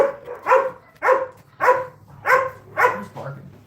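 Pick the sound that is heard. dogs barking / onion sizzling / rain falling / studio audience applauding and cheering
dogs barking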